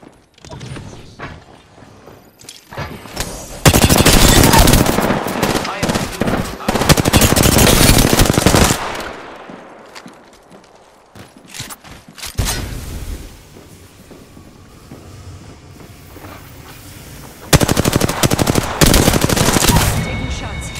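Video game gunfire in rapid bursts: a long, loud stretch of automatic fire, a quieter lull with scattered shots, then another heavy burst near the end.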